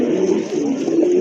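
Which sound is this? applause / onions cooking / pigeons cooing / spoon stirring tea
pigeons cooing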